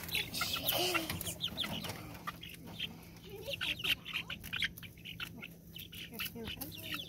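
Several chickens cluck and squawk steadily nearby, with voices talking faintly in the background.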